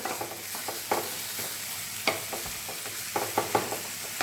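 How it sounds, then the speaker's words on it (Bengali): Minced mutton keema cooking in its own melting fat in a pan, a continuous crackling sizzle broken by several spatula scrapes and taps, close and fairly loud. "সবার আগে কিমাটাকে কিছুক্ষণ রান্না করব, কারণ এর মধ্যে যে ফ্যাটটা রয়েছে সেটা গলে কিন্তু তেল রিলিজ হবেই অলরেডি"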